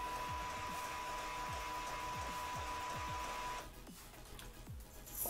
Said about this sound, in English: You're going to hear your printer making noise.